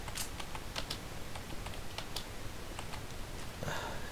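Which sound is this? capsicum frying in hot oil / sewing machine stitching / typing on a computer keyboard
typing on a computer keyboard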